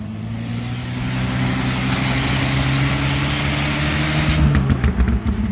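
A UAZ off-road vehicle's engine running loud and close, a steady low rumbling drone that builds slightly, then turns rough and uneven near the end, with no voices.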